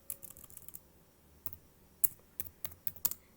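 Computer keyboard typing while entering an IP address in a network routing simulation: light, irregular key clicks, a quick burst followed by a few isolated sharper taps, close and quiet, with no speech.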